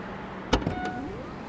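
The power tailgate of a Mercedes GLS 580 opens by foot sensor: a soft thump and latch clunk, then a quiet electric motor whine that rises and fades as the lid lifts, close and fairly faint.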